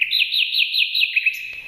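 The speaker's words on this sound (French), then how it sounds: "Dans la forêt vivait un rossignol." A nightingale sings a clear, bright run of repeated whistled chirps, close and loud, with a quick trill near the end, alone with no talking.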